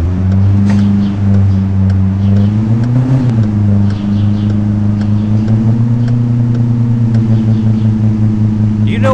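A BMW X4 SUV is driven hard through Rome city streets in a mobile taxi simulator game; its engine gives a steady, loud, droning hum that swells briefly, then holds at a slightly higher pitch.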